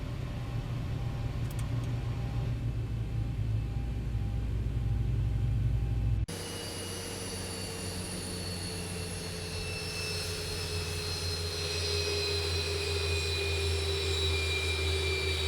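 Twin jet engines of a Boeing 737-800 in X-Plane 12 wind down at the gate in Seattle, a loud steady roar that drops off abruptly into a thinner fading whine.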